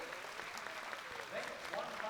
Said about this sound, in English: And it's 3 white flags and loud cheering from the British crowd.